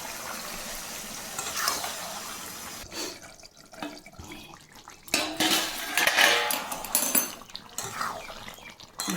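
Mutton pieces are tipped into cooked masala in a pot and stirred, producing uneven metallic clanks and scrapes of a utensil against the pot, with wet shuffling between the knocks and no voices.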